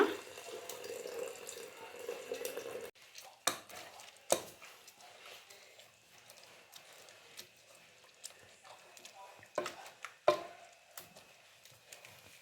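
Cooked greens from a pressure cooker after two whistles have their cooking water poured off in a kitchen for avarekalu dal and greens saaru: a steady pour of water for about three seconds, then scattered clinks, drips and utensil knocks.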